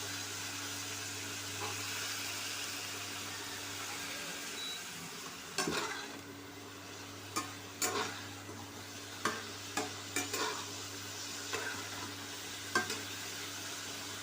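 Steady sizzling of spices with turmeric and salt frying in a hot pan, with a series of sharp scraping clicks as it is stirred partway through.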